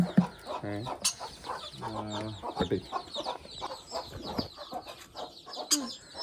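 Hens cluck in short, repeated bursts through a busy farmyard, mixed with other bird calls and a brief crow-like cry near the start.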